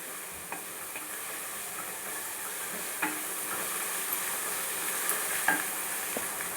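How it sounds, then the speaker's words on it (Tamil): Onions and ginger garlic paste fry in a pan with a soft, steady sizzle. A spatula stirs them every so often with faint scraping taps, quiet and close, with no talking. "இஞ்சி பூண்டு பேஸ்ட் அண்ட் வெங்காயம் எல்லாமே நல்லா செவந்துருச்சு"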